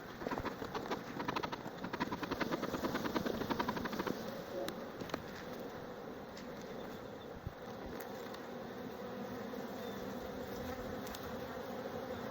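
Honey bees buzz steadily around an open hive during a fall inspection of the bottom brood box, a dense continuous hum that is louder early and then eases.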